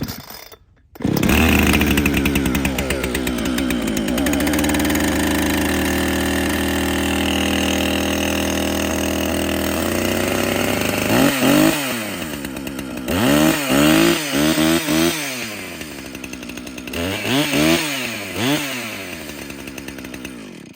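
Husqvarna Rancher 455 chainsaw starts and runs loud and close, holding a steady idle before a series of sharp throttle revs rising and falling.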